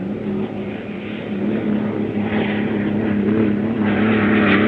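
A 1964 Seafair racing hydroplane at Seattle roars down the straightaway past the exit buoy, its engine a loud, steady, droning hum with a strong low tone that swells slightly as it continues, with no talk.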